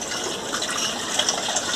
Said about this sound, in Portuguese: Eu vou pegar mais um pouquinho de água.